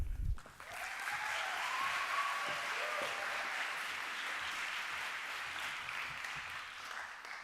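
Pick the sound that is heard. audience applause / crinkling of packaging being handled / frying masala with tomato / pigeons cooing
audience applause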